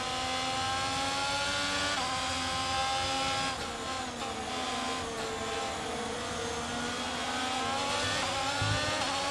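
Formula 1 race cars in the F1 22 video game, racing wheel-to-wheel at Miami, with engines holding a steady high-pitched whine that shifts in pitch as they close up and pull away.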